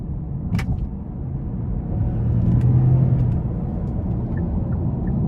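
Low, rumbling naturally aspirated engine of a 2018 Genesis G80 roaring, building steadily and easing off, fairly muted with a few faint clicks on top, no talking.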